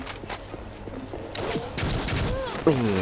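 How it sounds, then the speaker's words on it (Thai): Rapid gunfire from a BlackShot M Gears mobile FPS game, bursts of shots with mechanical clicks building in density over a few seconds, with a sharp louder crack near the end. "ยิงรัวๆเลยครับ"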